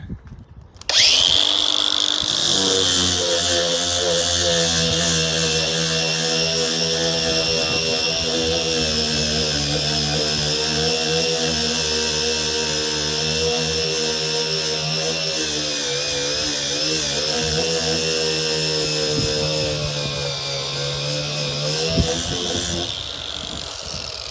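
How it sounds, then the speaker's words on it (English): A power grinder fitted with a 60-grit flap disc, removing paint, whines steadily at high pitch for the whole stretch, loud and close, with a grinding abrasive rasp that barely changes. "Let me bring up my flap disc and see how that works."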